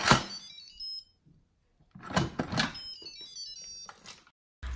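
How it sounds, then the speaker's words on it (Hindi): A kitchen timer set for pressure cooking goes off in a home kitchen with bright, repeated electronic ringing tones in short bursts separated by pauses, close and alone with no talking. "अब मैं यहाँ पे 12 मिनट का टाइमर लगा रही हूँ प्रेशर कुकिंग के लिए"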